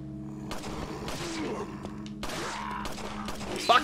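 Gunshots in Resident Evil 4, a burst of several rapid thudding shots with impacts and scuffling, mixed among game sounds and other effects, with a sharp louder crack near the end.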